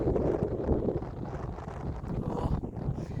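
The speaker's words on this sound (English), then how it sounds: "you can hear that wind" Wind gusting across the microphone beside a farm dam on a hot morning, a steady low, rumbling roar that fills the whole stretch without a break.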